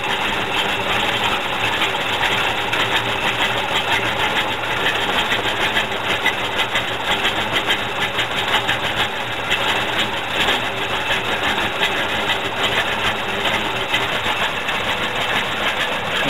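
A 1966 Chevelle SS 396 V8 idles steadily. The rumble is close and unbroken, with a busy mechanical clatter and a faint hiss throughout.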